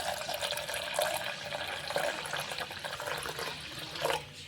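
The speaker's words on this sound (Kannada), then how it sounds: "ಇವಾಗ ಇದಕ್ಕೆ ನೀರು ಸೇರಿಸ್ಕೊಳ್ತೀನಿ" Water poured into a pot holding milk and jaggery: a steady splashing, gurgling stream close by, with a few heavier surges as the flow changes, alone without talk.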